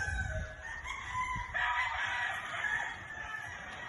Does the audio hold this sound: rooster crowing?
yes